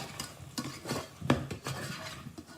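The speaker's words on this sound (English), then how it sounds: "So let's have a little stir." A spoon stirring pasta sauce in a pan, giving repeated scraping and clinking strokes against the metal over a soft simmer, close up with no talking.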